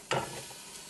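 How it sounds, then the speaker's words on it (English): Mushrooms drop into hot avocado oil in a Ninja Foodi with a sudden hiss that quickly fades into a soft, close sizzle. "I'm going to take a little bit of avocado oil. And we're going to put the mushrooms in."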